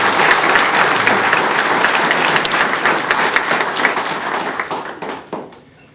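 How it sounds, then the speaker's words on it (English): Loud, dense applause from a ceremony crowd honoring a graduating National Technical Honor Society class, sustained for several seconds before fading out quickly. "Let's give them a nice round of applause."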